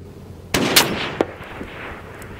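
A Mauser 30-06 sporter rifle firing 178-grain rounds at a distant range gives a single sharp report, followed by a fainter echo or distant impact and then quiet outdoor ambience.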